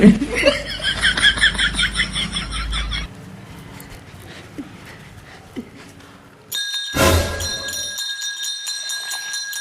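A temple bell rings out with a bright, sustained metallic tone in the last few seconds, after an opening stretch of laughter and chuckling followed by a quieter lull.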